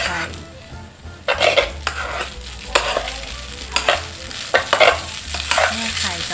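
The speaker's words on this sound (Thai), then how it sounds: "หลังจากนั้นผัดให้เข้ากันกับไข่" Egg and soaked glass noodles are stir-fried in a pan, with a steady sizzle under repeated scrapes and clanks of a utensil against the pan in uneven bursts, close and fairly loud, with no talking.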